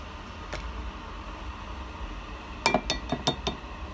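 A spoon scoops shea butter into a hair-oil mixture: a quiet single clink, then a quick cluster of sharp metal-on-glass clinks and taps against a container, close and distinct over low background hiss, no talk.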